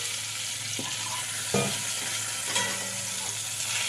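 Oil sizzles steadily in a pan as pieces of pointed gourd fry, with occasional scraping stirs of a utensil against the pan, no talking.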